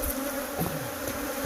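Africanized killer bees swarm with a dense, steady buzz during a springtime hive removal, the droning hum close and continuous throughout with no talking.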